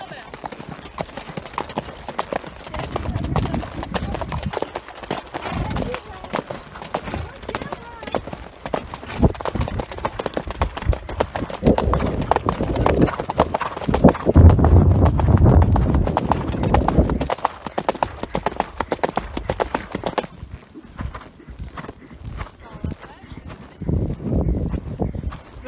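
Horse hooves clip-clop steadily on an outdoor ride, a close rhythmic clatter continuing for the whole stretch, with people talking over it at times.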